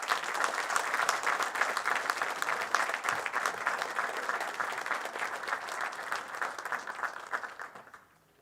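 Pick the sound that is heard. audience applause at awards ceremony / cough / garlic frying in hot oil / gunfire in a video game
audience applause at awards ceremony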